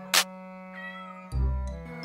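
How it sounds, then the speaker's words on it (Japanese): A roughly four-month-old kitten meows outside a house: a few drawn-out, tonal cries, fairly close and moderately loud, with a short sharp noise near the start. "しきりに鳴く子猫の声が"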